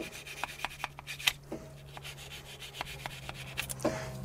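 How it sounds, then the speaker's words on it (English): A wire brush scrubs the surfaces of a front brake caliper on a Nissan Leaf, making a series of short, rhythmic scraping strokes close by, with a steady low hum running underneath. "let's clean up these surfaces and do this surface very carefully because you don't want to put your wire brush through the rubber seal"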